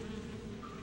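Bees buzzing in a video game, a brief steady insect drone with a tonal hum, fairly faint and alone.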